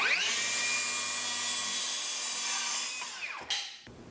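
A Milwaukee M18 cordless 7-1/4 inch circular saw cuts through sheet goods with a loud, sustained high-pitched whine that winds down after about three seconds, followed by a few clunks.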